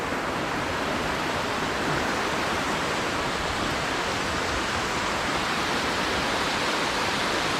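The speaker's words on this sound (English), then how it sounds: "Water's going too fast down there." Fast-flowing stream near a waterfall, heard as a dense, unbroken roar of rushing water, loud and close, holding constant with no voices or other sounds.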